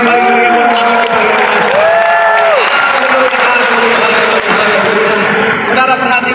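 A large crowd at a Christmas church service in a Jakarta stadium bursts into loud, sustained cheering and applause, with shouts rising over the roar as a voice speaks through it.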